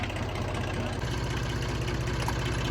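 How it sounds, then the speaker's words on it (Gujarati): A tractor's diesel engine runs steadily nearby, straining under a tight load, with a low, rhythmic chugging throb and constant mechanical rumble. "ટ્રેક્ટર ચાલુ પણ ટ્રેક્ટરને અત્યારમાં બહુ જ ટાઈટ લાગી ગઈ છે"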